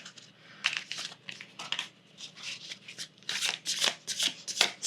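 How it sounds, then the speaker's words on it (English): A deck of oracle cards is shuffled and handled up close, with a series of quick riffling, papery bursts and soft slides separated by short pauses, and no talking. "I'll be getting 3 cards from the Quantum Oracle deck."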